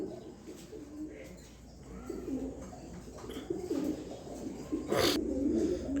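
Soft, low cooing from racing pigeons repeats against a steady background hum, with a brief louder rustle or flutter near the end.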